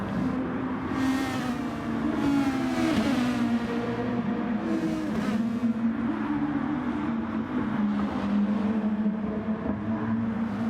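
Race cars lapping in the Gran Turismo Sport video game, running side by side down the main straight: a continuous loud engine drone with shifting pitch as revs rise and fall, heard alone throughout.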